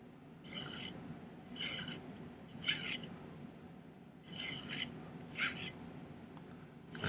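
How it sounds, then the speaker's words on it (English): A metal hand file rasps against a silver tube being shaped into a pillar prong setting, about seven quiet, steady back-and-forth strokes over low room noise. "So I'm going to take my file"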